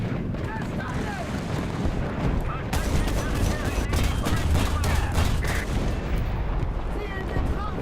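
Gunfire in a war video game involving tanks: continuous volleys of shots and booming blasts under a dense battle rumble, loud and sustained, with voices speaking over the fighting.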